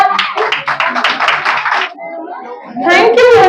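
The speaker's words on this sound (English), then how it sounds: "Parents, please clap." Parents at a kindergarten fancy dress contest clap for a child, a short, dense patter of many hands in an indoor room that fades out and is followed by a voice speaking.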